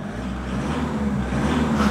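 Iveco Stralis 460 truck engine running with a steady low diesel rumble and a slight rise in revs toward the end, heard close and fairly loud.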